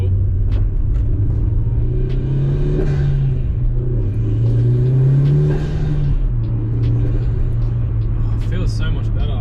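A car engine hums steadily while driving, its low drone rising and falling in pitch as the throttle changes, loud and continuous; a voice speaks over it.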